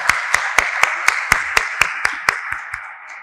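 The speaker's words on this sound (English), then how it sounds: "let's applaud our world-class panelists for their talk" Rhythmic single claps at an even pace, about four per second, ring out over a steady room hum as an audience applauds panelists at the close of a discussion session, then trail off and fade near the end.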